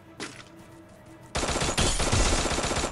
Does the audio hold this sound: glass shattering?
no